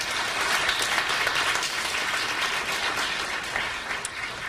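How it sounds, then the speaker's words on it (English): Steady applause from a forum audience at a community meeting on fracking, a dense, even wash of many hands clapping at moderate volume that continues throughout with no talking. "they deserve a round of applause for a great job."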